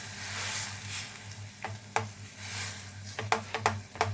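A spoon stirs water with a pinch of salt for mango gulab jamun, giving a few scattered scrapes and clinks over a steady low hum and soft background hiss.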